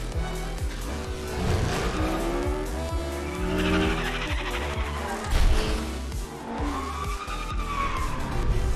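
In the Fortnite video game, the Rocket League car races with a roaring engine, squealing and skidding tires and occasional impacts, set against game sounds and music, continuous and loud throughout.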